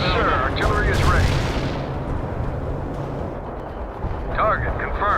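Heavy artillery fire in the World in Conflict strategy game: a loud, rumbling barrage of booms and blasts fills the whole stretch, with game radio voices speaking over it at the start and again near the end.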